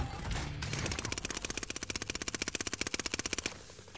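Rapid automatic gunfire in Call of Duty Warzone on the Fortunes Keep map, a loud sustained burst of evenly spaced shots rattling off for about three seconds after a short lead-in of other game noise.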